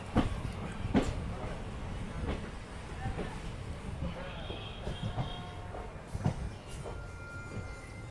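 A train standing at platform number 1 of Gondal railway station on the Rajkot to Porbandar run, a low rumbling hum and hiss with occasional clanks and knocks, steady and moderately loud, with voices in the background.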